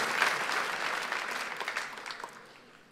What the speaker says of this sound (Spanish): Le podemos dar un fuerte aplauso a todos ellos